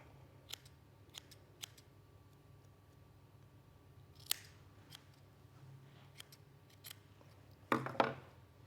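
Sharp scissors snip at a yarn pom pom while shaping an owl face, a few isolated quiet cuts spread apart, then a louder double snip near the end in a calm, quiet room.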